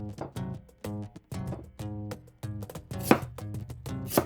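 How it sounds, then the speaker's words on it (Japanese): Fresh ginger being finely chopped with a knife on a cutting board, a quick irregular series of close, crisp thuds and taps. "生姜もみじん切りに。"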